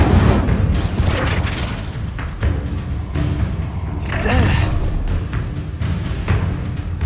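Incendio fire spell cast in the video game Hogwarts Legacy, loud whooshing bursts and booming impacts amid chaotic combat effects, with a brief bright flare of fire around the middle.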